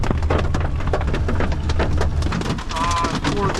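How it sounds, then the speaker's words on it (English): Hail storm in Yellowstone National Park: loud, dense rattling and pelting of hailstones hitting a hard surface, continuous and close throughout, with no talk. "Holy hail, Batman!"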